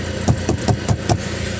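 A cold Renault F9Q diesel engine idling on an 8-degree morning after a single glow-plug cycle, close and loud, with a steady, rhythmic knocking chug of evenly spaced pulses.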